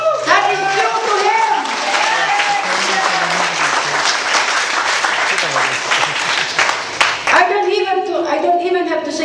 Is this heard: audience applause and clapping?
yes